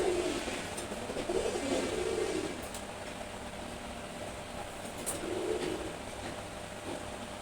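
A pair of red checker pigeons coo in low, soft murmuring phrases, two separate bouts at a quiet level over a faint steady hum.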